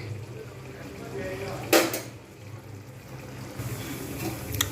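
A utensil stirs tomatoes cooking in ghee in a pan. Soft scraping runs throughout, with one sharp metallic clatter partway through and a few lighter knocks near the end.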